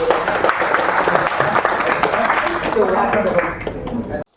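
Audience clapping after a magic trick performed by a magician in a collectorate meeting hall for government employees, a steady burst of applause mixed with crowd chatter that ends abruptly.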